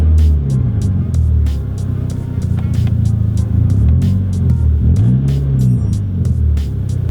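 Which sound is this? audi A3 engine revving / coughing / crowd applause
audi A3 engine revving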